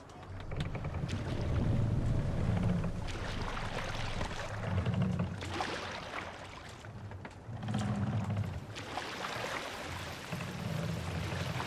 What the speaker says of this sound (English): Sailing wind here, Eivor.